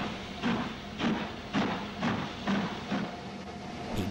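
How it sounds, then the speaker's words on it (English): Steam locomotive working with rhythmic chuffs roughly every half second, each puff a hissing burst over a low mechanical rumble, moderately close and alone without speech. "raising steam and pumping pistons, Oliver moved over to the train."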